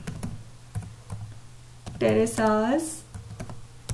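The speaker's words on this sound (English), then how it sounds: "Now I am going to type here our school name" Keys clack in quick irregular bursts on a computer keyboard while a voice speaks briefly in the middle, the typing close and light throughout.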